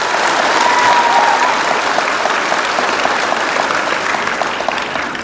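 A gathered audience claps together in a dense, steady round of applause, loud at first and tapering slightly toward the end.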